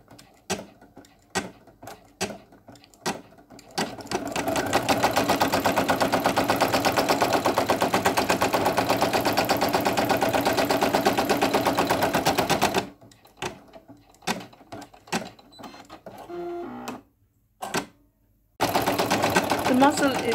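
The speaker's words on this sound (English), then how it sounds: "we're just now sewing on the nostrils and eyes." A Brother single needle sewing machine stitching a minky fabric hippo applique, with short bursts of needle strikes, then a long steady mechanical whir, then more stop-start stitching close up.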